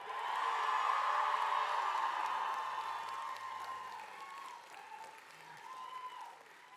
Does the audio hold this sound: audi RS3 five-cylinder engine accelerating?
no